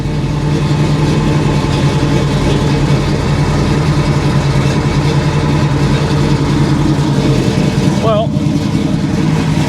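A 1971 Chevy Nova engine idles steadily with a low, continuous rumble close by, a voice briefly talking over it near the end.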